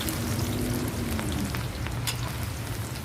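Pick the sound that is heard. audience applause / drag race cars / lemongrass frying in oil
lemongrass frying in oil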